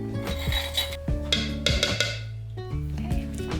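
Pounded chilies and garlic scraped around a mixing bowl for a Khmer barbecue sauce, a series of rough rasping strokes close up, with a few pauses between them.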